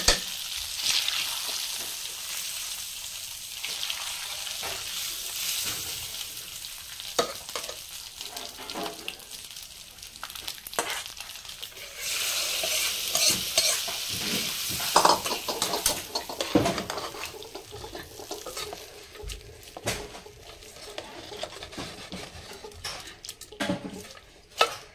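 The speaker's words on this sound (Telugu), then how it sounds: "అన్నంలో అయితే మిక్స్ చేసుకున్నాం పోపు" A spoon stirs tempering into cooked rice for a prasadam offering, giving steady scraping and mixing noise with faint clatters that run continuously throughout.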